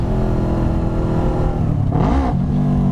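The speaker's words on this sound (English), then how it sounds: "That's holding the clutch and then pulling the throttle too much." Near and loud, a motorcycle engine revs hard with the clutch held in, a sustained roar swelling into a sharp throttle blip near the end.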